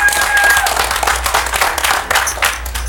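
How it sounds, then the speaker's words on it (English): A crowd at a poker tournament final table in a casino gives a short burst of applause for a seated player, loud dense clapping with room noise and a low hum underneath. "let's give a round of applause in the 7th seat."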